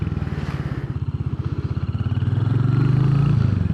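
Royal Enfield Hunter 350 motorcycle pulling away, a close, thumping single-cylinder exhaust beat that quickens and rises in pitch as it accelerates.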